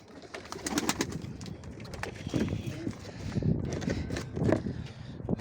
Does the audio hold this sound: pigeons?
yes